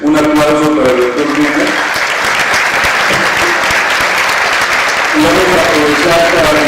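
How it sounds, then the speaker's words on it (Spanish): An audience applauds a doctor at an evening talk, steady dense clapping filling the room throughout, with a voice speaking over it at the start and again near the end. "Un aplauso para el doctor Mena."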